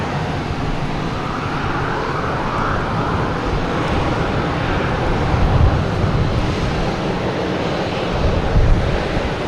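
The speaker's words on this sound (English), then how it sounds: "we have American Airlines, the E-175 coming in from JFK" An American Airlines Embraer E-175 regional jet on landing approach at Boston Logan, arriving from JFK, produces a steady, broad jet-engine roar that holds fairly level and swells slightly toward the end, with no voices over it.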